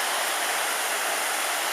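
A small waterfall on Tasmania's South Esk River rushes in a dense, constant roar, close and loud with no voices or other sounds.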